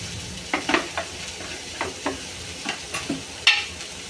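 Radish leaves seasoned with salt and turmeric are stirred in a pan, producing a series of soft scraping, rustling strokes at an uneven pace over a light sizzle.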